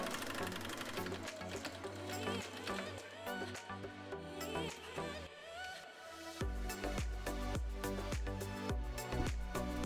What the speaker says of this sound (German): Ganze einmal mit an die Nähmaschine und nähen hier und an der anderen Seite des Bandes einmal gerade rüber